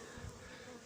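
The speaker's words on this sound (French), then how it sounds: "Regarde, t'as vraiment plein d'abeilles là." Dense, steady buzzing of many honey bees around a swarm being hived in a garden at Noisy-sur-École, loud and close, filling the short clip without a break.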